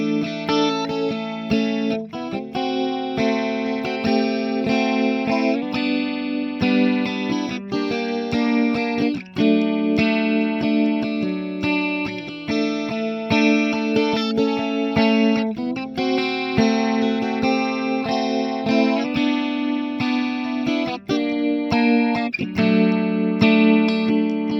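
Electric guitar run through an FM9 amp modeler playing the intro of a song, a sustained, effects-rich melodic line of ringing chords and notes, steady and close.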